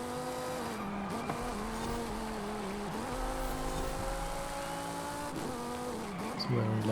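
Race car engine in Forza Horizon revving and shifting through gears during a lap, pitch climbing and dropping repeatedly with occasional tire noise, loud and continuous without talk.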